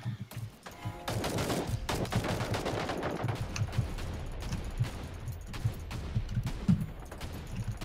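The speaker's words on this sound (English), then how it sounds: "these dual pistols are awesome" Rapid gunfire from dual pistols in the co-op shooter Earthfall, a dense run of sharp shots firing continuously at close range with other game sounds mixed in.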